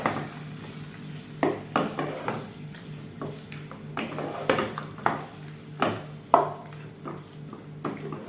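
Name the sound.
mixing thick yogurt into chicken in a pan for chicken kurma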